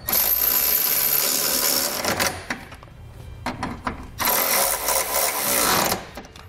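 Metallic ratcheting from a 19 mm or 3/4 inch socket wrench snugging up bolts on a Draw-Tite Sportframe trailer hitch on a 2017 Toyota, in close bursts separated by a short quieter pause.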